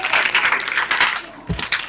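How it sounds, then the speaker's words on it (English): A student debate audience applauds the winning team in short, uneven bursts of clapping that dip briefly near the end before resuming, fairly close and moderately loud. "Please, a round of applause for them."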